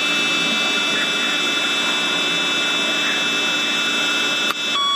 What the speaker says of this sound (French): Et vous allez souffler 5 secondes tel que c'est indiqué de façon continue.